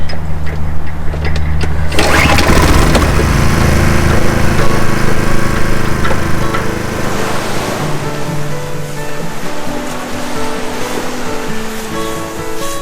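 A loud, rough petrol engine drones steadily on a sailing boat, with a broadband wash and some revving changes in pitch. No voices can be heard over it.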